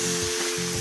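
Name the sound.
stirring poppy seed paste with green chilli in a pan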